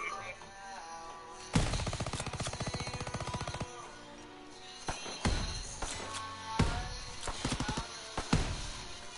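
Gunfire in a WW2 shooter, with a sustained rapid burst followed by several separate heavy blasts spaced a second or two apart, loud over background game sound and faint talk.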